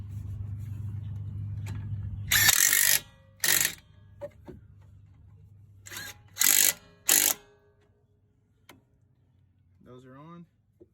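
Mechanic's ratchet tightening the two 13mm brake caliper bolts on a 2013 Dodge Journey SXT 3.6L, with a few loud bursts of ratcheting clicks over a low engine-like hum, the hum dropping away later.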